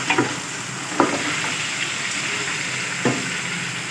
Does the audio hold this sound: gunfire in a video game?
no